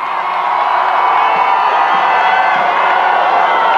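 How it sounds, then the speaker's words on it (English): A large street crowd at a Toronto victory parade for the World Series champion Blue Jays cheers and whoops in a dense, continuous roar that holds steady throughout. "he's egging on the crowd as if they need to be urged to cheer"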